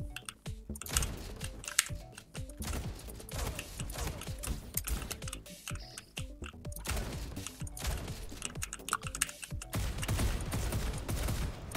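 Rapid bursts of video-game gunfire in Lithium City, a fast top-down shooter, crackle in dense volleys with mechanical clicks throughout, loud and continuous with no talking.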